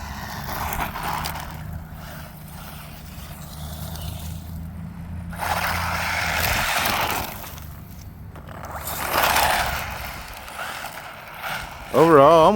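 An Arrma Mojave Grom BL 223S brushless RC truck on its first run, whirring in short full-throttle bursts that rise and fade into the distance, with someone talking through most of it.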